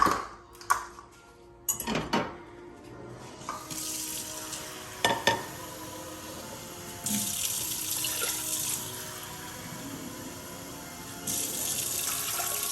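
Tap water pours into a pot for cooking rice in a home kitchen, after a few sharp clinks and knocks of cookware, then a steady rushing stream that swells louder in bursts, with no talking.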